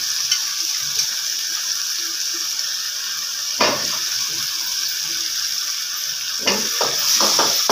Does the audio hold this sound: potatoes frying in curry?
yes